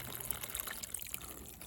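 Water trickles from above onto hydroponic seedlings. A faint, close, steady splashing runs without a break and no one speaks.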